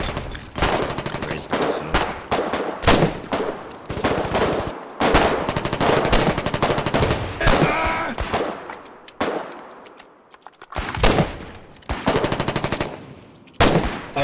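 Loud, near bursts of automatic machine-gun fire from the war game Foxhole, rapid rattling volleys repeated across the stretch with short gaps between them and a brief lull near the end.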